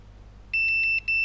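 A multimeter on continuity test beeps while probing a Lenovo Yoga 2 13 ZIVY0 LA-A921P laptop motherboard: a rapid series of short, clear, high-pitched pulses, then a longer steady tone, over a faint background hum.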